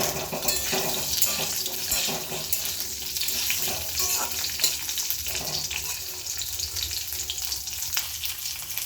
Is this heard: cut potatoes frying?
yes